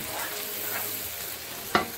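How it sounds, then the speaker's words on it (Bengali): Cumin, curry and coriander powders stirred and fried with onions in a pan for beef with mung dal, a steady sizzle with a sharp spoon scrape near the end, no talk. "জিরা পাউডার 2 টিস্পুন, কারি পাউডার 2 টিস্পুন এবং ধনিয়া পাউডার 2 টিস্পুন দিয়ে সবগুলো মিশিয়ে নিচ্ছি পেঁয়াজের সাথে"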